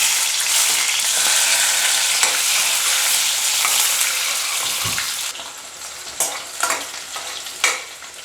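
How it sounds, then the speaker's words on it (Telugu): Onions dropped into hot oil in a pan hiss into a loud, steady sizzle, with close stirring scrapes and clinks growing more distinct toward the end. "ఆయిల్ అయితే హీట్ అయింది ఉల్లిగడ్డలు వేద్దాం ఇప్పుడు"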